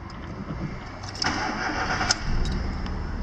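A 2009 Volkswagen Gol Power 1.6 8v Flex engine cranks and catches, settling into a steady close idle with a brief rise in revs, recorded from inside the car.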